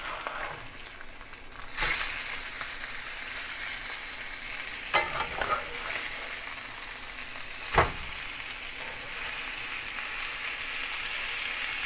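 Salmon fillets sizzling in a pan after being flipped, a steady crackling hiss with a few sharp pops and clatters, moderately quiet and with no one speaking.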